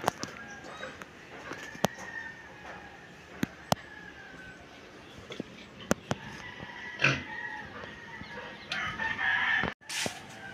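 A rooster crows a few times in the distance amid outdoor ambience, with occasional sharp knocks and clatters nearby.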